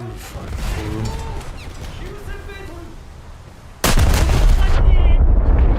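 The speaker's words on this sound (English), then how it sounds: "somebody's finally shooting me" Gunfire hits a warship in a naval combat video game: continuous rumbling battle noise with muffled impacts, then a sudden loud blast of heavy shelling near the end that stays dense and roaring.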